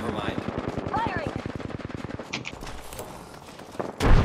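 Machine gun fire in the video game Apex Legends, a rapid regular burst of close shots lasting a couple of seconds, followed by scattered game effects, with a voice briefly heard.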